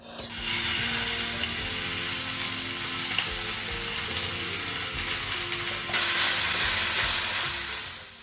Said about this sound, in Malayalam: ദേ വെളിച്ചെണ്ണ വെച്ച് കട്ട് ചെയ്ത് വെച്ചായിരുന്ന സവോള ഇട്ട് ഞാൻ ദേ ആവശ്യത്തിനുള്ള ഉപ്പും കൂടി ഇട്ടിട്ടുണ്ട്